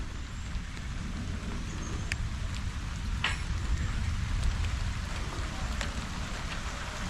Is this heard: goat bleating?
no